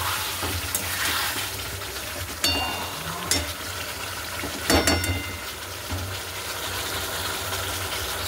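Bitter gourd fries in a little oil, a continuous close hiss and crackle with a few sharp clinks and scrapes from stirring, steady throughout without talk.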